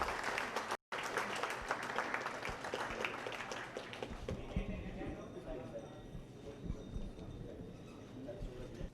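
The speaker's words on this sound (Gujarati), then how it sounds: "આપણે તાળીઓથી વધાવીએ આ પ્રસંગને" Audience applause at a wedding-matchmaking function in a Mumbai hotel hall, a dense steady clatter of many hands that thins into scattered clapping and murmuring with voices in the room, briefly cut by a short gap near the start.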